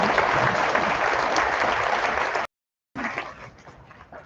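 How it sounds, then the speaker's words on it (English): Dense, steady applause from a crowd at a Hall of Fame gala, loud and sustained, cutting off abruptly before a shorter burst of clapping resumes and fades. "Let's give that a round of applause."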